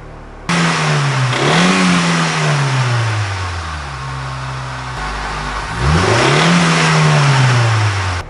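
A car engine with an engine-flush additive revs up to nearly 4000 rpm, drops back toward idle, then revs high again, loud and close throughout.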